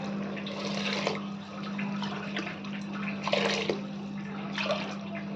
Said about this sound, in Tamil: ஒரு டம்ளர் அரிசி முக்கால் டம்ளர் பருப்பு அது வந்து நாலரை டம்ளர் தண்ணி நான் ஊற்றிக்கிறேன்